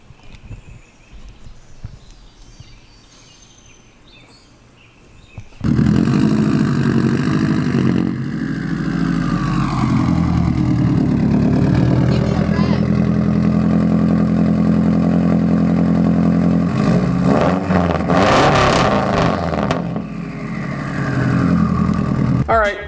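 A Subaru WRX engine with an aftermarket Invidia exhaust growls and revs steadily with a deep, throaty note, rising in bursts near the end, with voices faintly audible beforehand.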